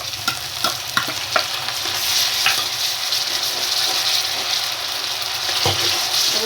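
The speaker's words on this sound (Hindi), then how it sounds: "अब इसमें लहसुन अदरक का पेस्ट ऐड करेंगे।" Ginger garlic paste hits onions frying on low heat in a pan for beetroot pea sabzi, giving a steady close sizzle with intermittent stirring clicks and scrapes throughout.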